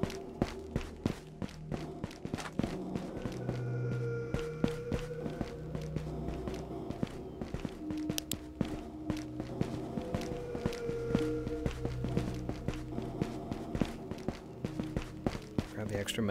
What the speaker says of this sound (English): I thought I heard two sets of footsteps